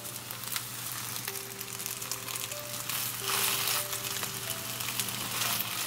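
Rotisserie chicken toast roll-ups frying in a pan over medium gas heat give a steady, close sizzle and crackle throughout, with faint tonal hum and occasional soft clinks underneath.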